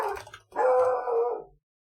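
A dog, Archie, gives two quick barks close by: a short yip followed by a longer, howling bark, then silence.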